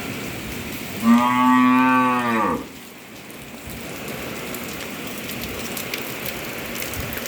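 A single long, loud cow moo rises and fades over about two seconds during a day of rain, followed by steady rain-like patter and quiet outdoor background.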